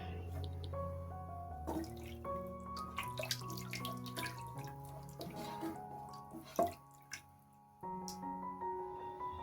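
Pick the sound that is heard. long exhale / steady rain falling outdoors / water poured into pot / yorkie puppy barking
water poured into pot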